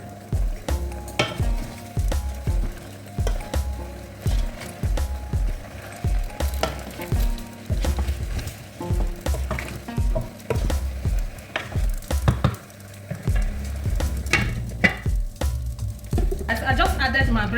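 Breaded peppers and onions fry in a pot with a loud, steady sizzle. A spoon stirs them with repeated scraping and clanks against the metal, close by, over a low background.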